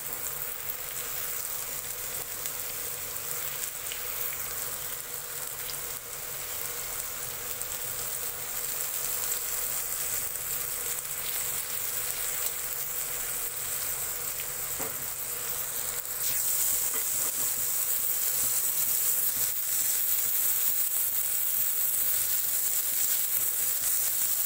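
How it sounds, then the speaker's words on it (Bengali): Ridge gourd fries in oil with onion and a slit green chilli, giving a continuous, even sizzling hiss that holds steady and swells slightly near the end, with no talking. "এবার এই পিঠটা লাল করে ভেজে নিয়ে আমি নামিয়ে দেবো।"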